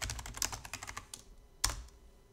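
Rapid clicking of keys as a password is typed on a computer keyboard, a quick run of close, light taps followed by a sharper final keystroke, heard alone.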